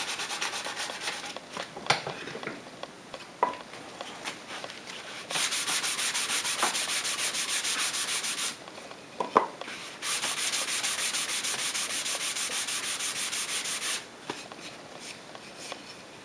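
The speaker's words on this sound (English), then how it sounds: "that sander I used before really does bring the grain up on it with minimal effort" Electric sander working the end grain of wood, in two long steady bursts of broadband hiss separated by quieter rubbing and scraping handling sounds, fairly close and with no talk.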